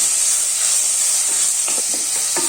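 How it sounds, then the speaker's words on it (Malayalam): Ginger garlic paste sautéed in a pan for egg curry gives a steady soft sizzle with a few light stirring scrapes near the end. "ചേർത്തിട്ട് ഇതിന്റെ ആ ഒരു റോ ടേസ്റ്റ് ഒക്കെ ഒന്ന് പോണ വരെ ഒന്ന് വഴറ്റി കൊടുക്കാം."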